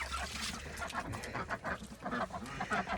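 Ducks in a pen quack and honk in short, repeated calls, close but fairly quiet, with some muffled movement around them.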